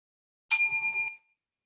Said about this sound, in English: As I ring the bell to bring our meditation to an